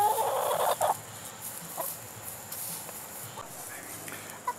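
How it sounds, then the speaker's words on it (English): Backyard chickens cluck and call in short bursts near a home DIY project area, loud at first, then fainter and scattered among quieter background noise. "Look at chickens."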